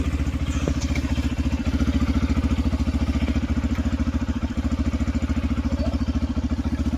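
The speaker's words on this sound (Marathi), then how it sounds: "विशाल, सर्व बाईक आपल्या रेडी आहे." A motorcycle engine idles steadily and close by, a rapid even putter running throughout with no voices.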